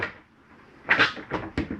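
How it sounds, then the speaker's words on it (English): A shower door in a 2019 Jayco Jayflight 29RKS travel trailer snaps shut with a quick cluster of close, sharp clicks and knocks. "Make sure that you have this snapped closed for travel."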